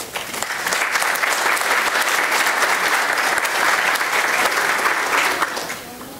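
Standing audience at a pharmacy conference giving a round of applause, sustained dense clapping that swells quickly, holds steady and fades near the end.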